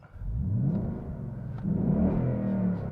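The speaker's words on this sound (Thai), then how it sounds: "มีเสียงเครื่องที่ เพราะกว่าเครื่องเสียงอยู่แล้ว" Ford Mustang GT 5.0 V8 engine revving in two deep, rumbling swells, close and loud, with no talking.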